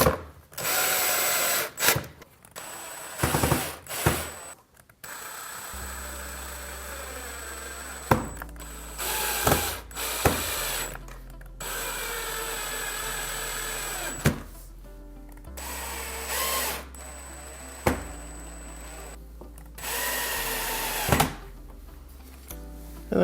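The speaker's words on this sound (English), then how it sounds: "Put our screws in." Screws being driven into the cover of an LG washer with a power driver, several short whirring bursts separated by pauses, close and fairly loud, with no talking.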